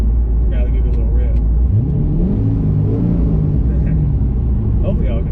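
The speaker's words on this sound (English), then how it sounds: "Gotta give it a little rev." A deep, loud cammed C6 Corvette engine idles then revs up and settles, its lumpy rumble steady throughout, with people talking over it.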